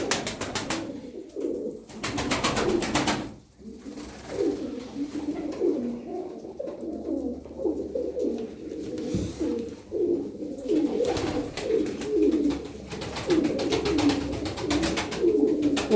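Tumbler pigeons coo in a loft in Darıca, soft throaty rolling calls overlapping continuously from several birds nearby, with occasional wing flutters and no talk.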